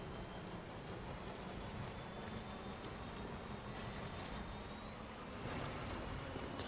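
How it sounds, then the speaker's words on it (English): Heavy rain pours steadily in the video game Death Stranding, a dense, even hiss of downpour filling the whole clip without pauses or voices. "Tons of rain."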